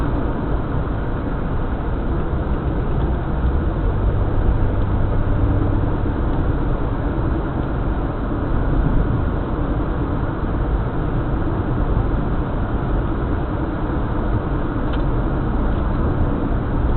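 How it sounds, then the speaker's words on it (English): Interior road noise from a Nissan Maxima driving on a regular paved road: a steady, even rumble and tyre hum with no notable changes, no talking. "it drives pretty smooth on these regular roads"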